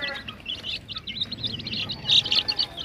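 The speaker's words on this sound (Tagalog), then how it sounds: "At ito yung mga sisiw na malilikot." Lively five-day-old chicks chirp in a busy, overlapping chorus of rapid high peeps, fairly close and continuous, with a louder cluster toward the end.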